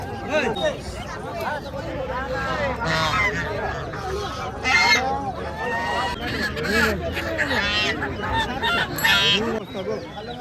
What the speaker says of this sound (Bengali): আর এখানে চলে এসেছি রাজহাঁসের হাট।